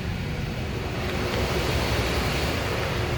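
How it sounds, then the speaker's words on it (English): Steady broadband whoosh of air blowing from the vents of a 1979 Cadillac Eldorado as the AC compressor kicks on, a constant rushing hiss that holds level throughout with no talking. "I can hear the AC compressors kicking on. Feels like we got cool air coming out."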